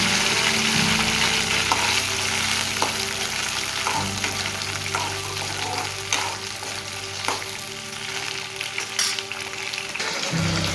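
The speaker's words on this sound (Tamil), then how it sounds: "எண்ணெயில் நம்ம நீர் நேரமாக கட் பண்ணி வச்சுருக்க வெண்டைக்காவை போட்டு நல்லா வதக்கிக்கலாம்" Cut okra (ladies finger) frying in oil for sambar: a loud, steady sizzle fills the whole stretch, with a low hum underneath and scattered spatula scrapes and taps as the pieces are turned.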